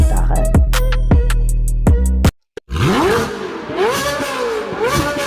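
A BMW car engine idles with a few sharp blips, cuts out for a moment, then revs and roars with rising and falling pitch, loud and close.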